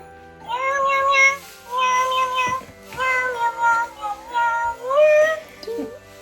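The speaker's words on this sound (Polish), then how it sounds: "Nawet kot śpiewa, mruczy, miauczy świątecznie." A cat meows repeatedly in drawn-out, tuneful cries, several long calls in a row, close and clear against a quiet room.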